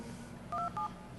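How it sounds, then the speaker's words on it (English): DTMF keypad tones dialed from a soft phone for a conference call: two short, clear dual-tone beeps in quick succession over a faint steady background hiss. "So basically, I'm going to ping a computer using just DTMF tones."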